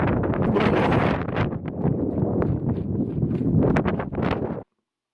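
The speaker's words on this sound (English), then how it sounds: "Plus with this wind, gracious." Strong mountain wind on the Appalachian Trail buffets the microphone in loud, continuous roaring gusts with rustling, then cuts off abruptly near the end.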